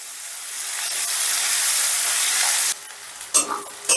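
Three medium onions, chopped, fry over a medium gas flame in a pan, a loud, dense hiss that cuts off abruptly, followed by a few scraping stirs and clinks.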